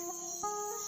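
Crickets kept as bait for bird trapping, giving a steady high-pitched trill that sounds close and continuous and otherwise quiet.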